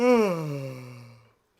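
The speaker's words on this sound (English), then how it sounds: "Did you see me yawn?" A single person yawns, a drawn-out voiced exhale that starts loud and slides downward in pitch before trailing off into silence.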